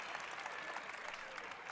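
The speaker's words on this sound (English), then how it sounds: "give them one more round of applause" A crowd at a high school state basketball title game applauds departing seniors, giving steady, distant-sounding applause that stays constant for a brief moment.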